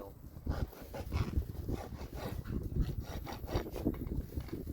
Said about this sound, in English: Rasp a little bit to make like a little pocket for the nail to rest in.